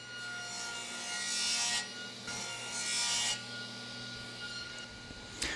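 A saw cuts a wooden piece set against a stop block, giving three rasping strokes separated by short pauses, close and fairly quiet.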